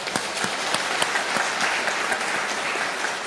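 A church congregation applauds the choir after a Sunday worship hymn, with sustained clapping and some distinct sharp claps standing out from the crowd, moderately loud and steady with no speech.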